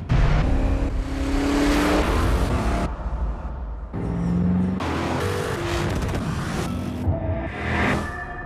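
Hyundai Genesis R-Spec, a 429-horsepower car, accelerating hard in a TV advertisement: a loud, continuous engine roar with rising revs, swelling and dropping across several bursts, with no talk over it.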